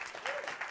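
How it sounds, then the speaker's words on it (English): Audience applause after a school production of the musical Little Shop of Horrors, a steady wash of clapping from the crowd that fills the whole short moment at an even level. "Give them a round of applause, please."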